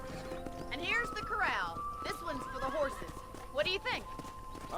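A horse in the video game Red Dead Redemption neighs and whinnies several times at a corral with rising and falling calls, hooves clip-clopping and voices talking underneath.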